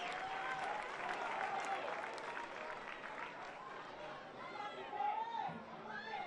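A home crowd cheers at a women's football match between Brisbane Roar and Sydney FC, a broad sustained roar and applause from the stands, steady and fairly loud, with a commentator's voice on top of it.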